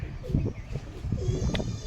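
A pigeon coos softly close by in low, throaty, repeated murmurs, several short phrases with a faint background hum and no talking.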